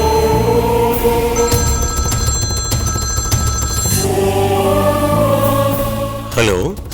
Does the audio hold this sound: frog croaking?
no